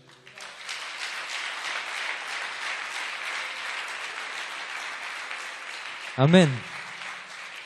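A church congregation at a seminar at Bethel church in Dakar bursts into loud, sustained applause and cheering for about six seconds. It ends with a single voice calling out briefly.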